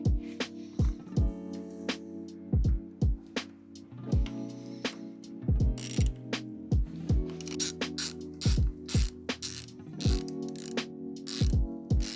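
Torque wrench ratcheting on the bolts of a Harley-Davidson Screamin' Eagle Heavy Breather K&N air filter, with repeated bursts of quick mechanical clicks in uneven rhythm, close and clear, no talking.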